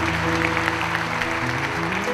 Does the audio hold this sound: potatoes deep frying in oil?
no